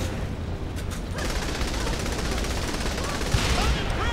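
Continuous dense gunfire from the video game Saints Row: The Third, a steady rattling barrage that holds for several seconds, loud and close, with a sharper crack near the end.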